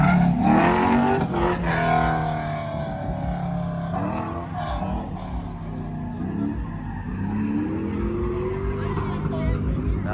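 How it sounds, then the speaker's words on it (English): A Honda race car engine roars and revs loudly at a car show pit area, rising and falling in pitch with sustained exhaust drone while people talk nearby. "That is Honda power. That's a full-fledged race car."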